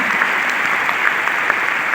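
An audience claps in steady applause, a dense, continuous crackle of many hands at moderate loudness, with no voices standing out.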